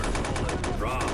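Quick burst of machine gun fire in a Lego-style World War I trench battle in Men of War, a short run of rapid, evenly spaced shots under a murmuring voice.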